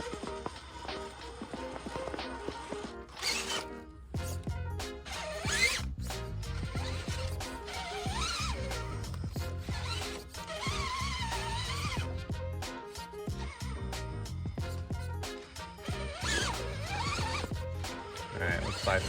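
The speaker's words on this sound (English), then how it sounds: "you can hear each lug of the tire fighting for grip" Desert RC dually rock crawler working over rock, with a dense, close clatter of tire lugs scrabbling and clicking for grip, punctuated by whining motor bursts and short pauses.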